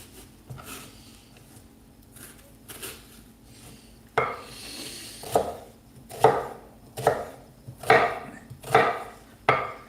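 A knife chops a shallot on a cutting board: soft scattered cuts at first, then a run of sharp, evenly spaced knocks roughly every two-thirds of a second, close and clear with no talking.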